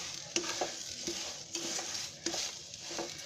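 Shevaiya upma gets stirred in a pan over a low gas flame, a quiet, steady sizzle broken by rhythmic scraping strokes of the spoon against the pan, roughly two or three per second.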